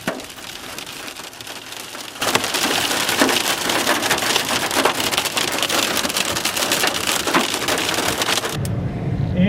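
A heavy rainstorm with strong winds and large hail comes down hard, a dense loud hiss of rain beating on surfaces that jumps in intensity after a quieter start and cuts off abruptly near the end.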